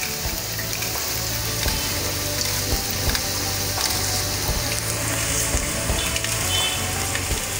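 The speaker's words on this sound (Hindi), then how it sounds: "प्याज को भी थोड़ा सा फ्राई करना है बस।" Onions fry in a pan while a mutton dil dish is cooked, producing a continuous loud sizzle and crackle close by, broken by regular utensil scrapes and no talking.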